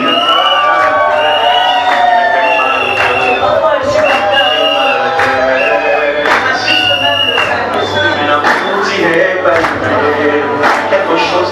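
Guests at a civil wedding at Bacongo town hall in Brazzaville cheer and shout loudly as a crowd, with whoops and hubbub rising steadily throughout.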